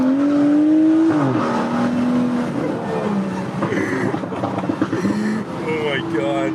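Car engine revving hard while the tires spin, heard from inside the passenger seat with rising and falling engine pitch, wind noise and excited voices talking and shouting over it.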